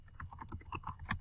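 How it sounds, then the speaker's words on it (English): Keystrokes on a computer keyboard entering data points into an Excel spreadsheet, a quick run of soft, irregular clicks close by with no voice. "I'm going to type in all the points that I got"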